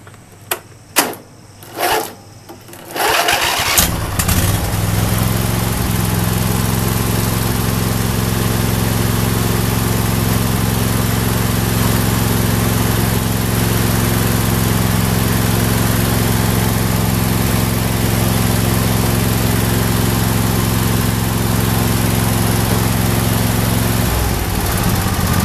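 A Briggs & Stratton lawn mower engine catches after a few short starting attempts, then runs loud and steady at high revs for about twenty seconds before easing off near the end.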